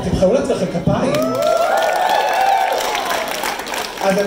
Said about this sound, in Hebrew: וואו, תבחרו לעצמכם כפיים.